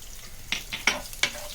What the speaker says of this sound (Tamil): இந்த எண்ணெய் சூடானதும் பூண்டு போட்டுக்கலாம்.